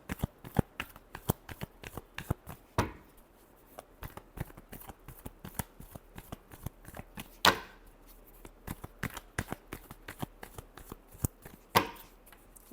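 Tarot cards being shuffled by hand, a steady run of crisp, rapid riffling clicks close up, with a few louder slaps as the deck is squared, and no talking.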